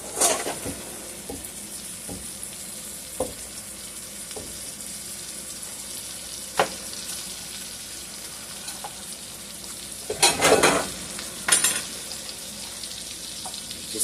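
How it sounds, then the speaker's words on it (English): A T-bone steak frying in a pan with black truffle butter, cooked toward medium rare. A soft, continuous sizzle runs throughout, broken by sharp pops and a couple of louder spattering bursts near the end. "Just let that baby fry."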